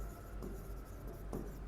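Marker or chalk writing on a board during a trigonometry lesson, a steady scratchy stroking sound running throughout the short stretch with brief bursts of heavier strokes, fairly quiet and with no talk over it.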